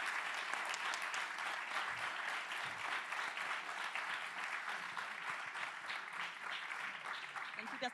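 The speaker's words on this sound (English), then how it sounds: "Please give a warm round of applause to our speakers" Conference audience in a meeting room applauding the speakers at a privacy event: a continuous, even wash of many hands clapping at moderate distance, fairly quiet and sustained throughout.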